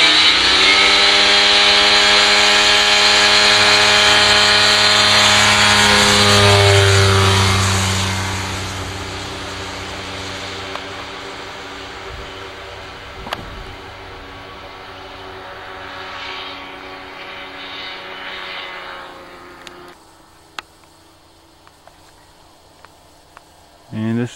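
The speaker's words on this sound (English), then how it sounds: "A little takeoff here." Kitfox light airplane fitted with skis taking off from a snowy runway, its engine a loud sustained drone that rises in pitch and then fades as the plane climbs away, with a voice talking briefly near the end.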